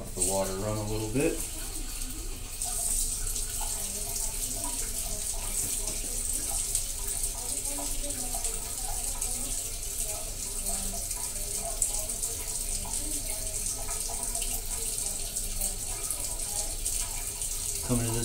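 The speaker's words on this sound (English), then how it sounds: "Let the water run a little bit." Water runs steadily from a tap for the whole stretch as a constant hiss, with faint talk and a brief rising tone near the start.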